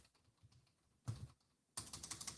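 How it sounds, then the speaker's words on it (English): Quick bursts of fast typing on a computer keyboard, rapid clustered clicks that start soft and grow louder and denser, with no voices. "Typing pretty fast."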